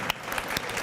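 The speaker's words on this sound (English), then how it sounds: "Round of applause." Brief applause and scattered claps, heard for under a second, with a soft crowd wash behind them.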